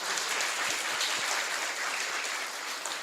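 A church congregation at a Corpus Christi Mass bursts into steady, dense applause, loud and sustained for the whole stretch with no speech over it.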